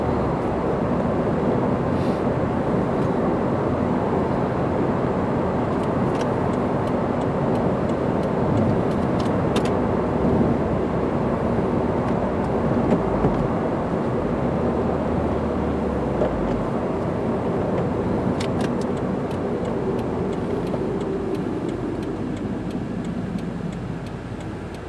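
A 2015 Subaru WRX with a six-speed manual gearbox drives with the engine working hard. A loud, steady engine and road drone holds for about twenty-five seconds, then eases slightly toward the end, with no talking.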